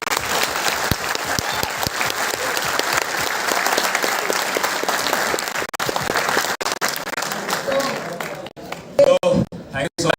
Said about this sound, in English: let's clap for yourselves